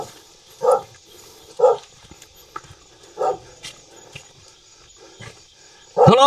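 A guard dog at an isolated rural house barks in single loud woofs spaced about a second apart, with a louder burst at the end over faint background noise.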